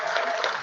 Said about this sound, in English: Another round of applause for Yasi.